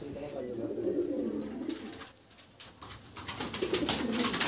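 A tournament racing pigeon at a loft coos in low, throaty murmurs, fairly faint, with a short quieter gap midway before soft cooing and rustling return.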